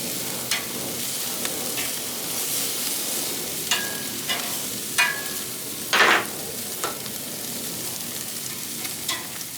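Chicken sizzles steadily over live fire on a drum smoker, a continuous broad hiss with occasional brief pops and crackles, close and alone without talk.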